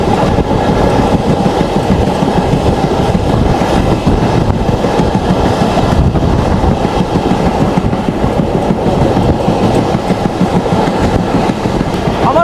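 The Mongla Commuter passenger train on the Khulna–Mongla line runs with a loud, continuous rumble and a rhythmic rattle of wheels and cars, heard up close from on board without pause.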